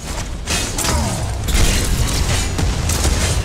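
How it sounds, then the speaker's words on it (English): A missile launched in the video game Paragon, heard as a dense burst of booming, mechanical game effects with repeated thuds and crackling blasts, loud and continuous over the few seconds with no talk. "Oh, I missed with the missile"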